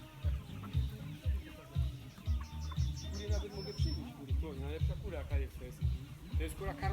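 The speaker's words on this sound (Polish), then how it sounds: "tak wyglądają Grzegorza kury" Hens at a farm chicken coop cluck repeatedly in the background under a loud, steady low thumping rhythm, with faint bird calls mixed in.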